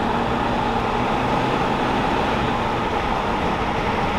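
A Land Rover Discovery 2 TD5 drives along with its rear air suspension fully collapsed onto the bump stops, producing a steady, loud engine and road rumble that fills the whole stretch without talk.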